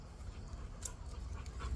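American Bully dogs pant quietly nearby, a soft rapid breathy rhythm over low background noise, with no talking.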